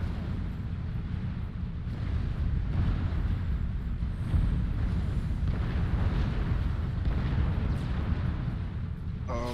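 Tank cannon fire fills a real-time strategy game battle, a dense continuous rumble of booms and explosions, loud and constant with no clear gaps.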